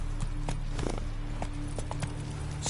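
A horse gallops in The Witcher 3 video game, with rhythmic hoofbeats thudding steadily and close over a low background hum.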